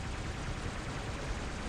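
A War Robots combat robot's weapons fire a dense, continuous barrage of loud crackling shots, steady and close, with no talking.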